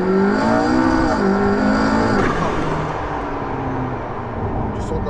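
McLaren P1 supercar driving on a public road, a loud, close engine roar with pitch climbing through gears, then a sharp shift and a falling, settling drone, under talk.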